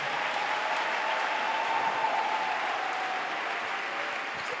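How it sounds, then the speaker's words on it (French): A church congregation claps together in steady, sustained applause at a worship service, a dense even roar of hands filling the whole stretch with no speech. "Acclame, acclame, acclame très bien."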